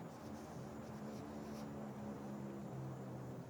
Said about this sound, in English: That plane I need to shoot down, still flying over every day.